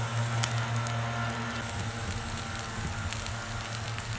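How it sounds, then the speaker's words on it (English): A small campfire from a pull-string fire starter burns on soaking wet leaves in near-freezing cold, giving a constant sizzle and light crackle with a faint low hum underneath. "I can hear a lot of sizzling underneath."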